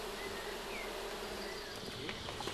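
Honey bees hum densely inside a hive's honey super, a close, steady buzzing drone with a few brief rustling clicks near the end.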